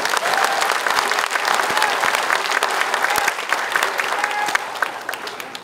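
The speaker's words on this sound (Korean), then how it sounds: "박수 한번 주시겠습니다." A crowd gives sustained, lively applause at the inauguration ceremony for Ulsan mayor Kim Doo-gyeom. Individual claps stand out from a thick, steady roar of hands that carries on for several seconds.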